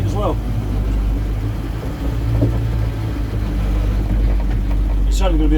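A Land Rover Series 2A 109 engine rumbles steadily while driving, loud and close, with a low drone throughout and a person talking over it.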